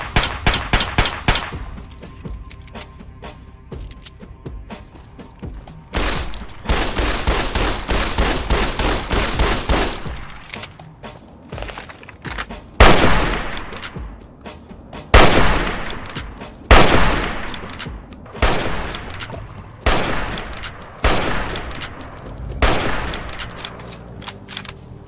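Gunfire from the Fallout 3 and Fallout New Vegas guns, re-recorded for New Vegas: loud, close single shots and rapid bursts in a series of sharp cracks, each trailing off before the next volley, with no talking.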